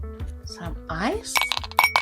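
Ice clinks into a glass of lemon water, several bright chinks bunched near the end, close by, following a stretch of talk.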